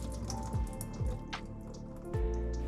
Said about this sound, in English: Open the package and drain the water inside.